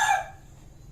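A rooster crows once, loud and close at the start, its call tapering off quickly into a low background hum.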